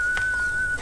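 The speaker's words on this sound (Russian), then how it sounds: "научите меня свистеть" A man whistles a single steady, sustained high note for under a second, close and clear, with no talk over it.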